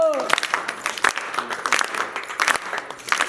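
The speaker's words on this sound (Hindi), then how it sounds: "ताली बजाओ।" An audience at a birthday jagran, a devotional gathering, claps in a loose, uneven burst while voices carry over the noise.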